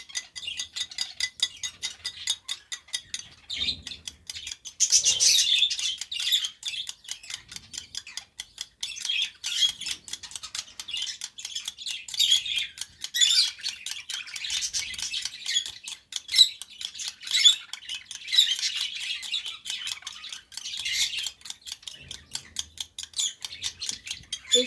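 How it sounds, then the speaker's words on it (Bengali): Lovebird or parrot chicks being hand fed warm formula give rapid, rhythmic high-pitched chirps and ticks that go on steadily and close by, swelling in bursts. "একটু মানে হালকা একদম ওয়ার্ম থাকতে থাকতে পাখিগুলোকে ফিড করানো হবে।"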